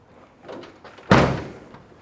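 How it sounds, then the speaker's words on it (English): A 1950 GMC 3100 pickup truck door swings and shuts with a solid, heavy thunk, preceded by faint creaks and handling sounds. "Door shut's nice, you have no problems there."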